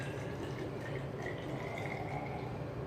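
About 100 ml of liquid poured into a container during carbon-system gold processing, a continuous trickling, filling sound with light dripping, close and steady for a few seconds.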